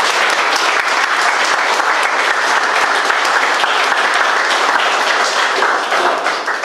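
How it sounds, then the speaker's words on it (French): An audience at a coding bootcamp demo day in Mauritius applauds the students with dense, steady clapping throughout, loud and close, with no break and no talk. "Un tonnerre d'applaudissements."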